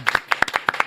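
Audience applause welcoming reporter Joo Jin-woo onto a stage, a short burst of a few distinct, close hand claps in quick irregular succession.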